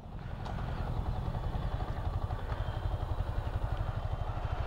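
A Yamaha fuel-injected motorcycle engine, an MT-15, running steadily up close with a dense, rapid low throb and a faint mechanical clatter, no voices.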